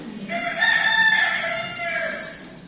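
Rooster crowing from fighting cocks, one long, loud cock-a-doodle-doo rising and then trailing off over about two seconds, heard close by with no talk over it.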